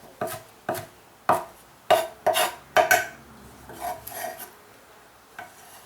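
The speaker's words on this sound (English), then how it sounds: "So let me chop this stuff up." Knife chopping salsa ingredients, jalapeno among them, on a cutting board: a steady run of crisp, close chops about every half second, fading to softer, scattered cuts toward the end, no talking.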